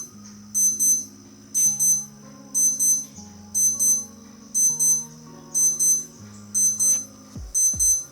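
A Casio A159WAD-1 digital watch alarm beeps in quick high-pitched bursts, repeating at a steady rhythm, with a faint low hum underneath.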